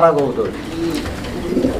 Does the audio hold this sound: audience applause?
no